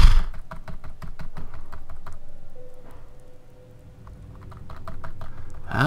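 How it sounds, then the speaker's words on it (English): A computer keyboard struck hard during a Fallout 4 session, giving a fast run of loud, sharp clacks that thin out in the middle and then pick up again, heard close and with no talk. "You hear me smash the keyboard, right?"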